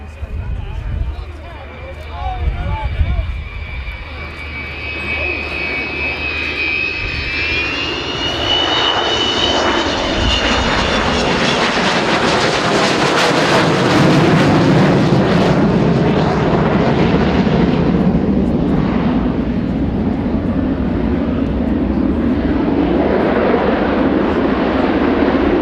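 An Avro Vulcan B2 delta-wing jet bomber, first flown in 1960, roars overhead. A loud, rising, sustained engine howl with a high whine builds steadily and dominates throughout, while a voice talks underneath in the opening seconds.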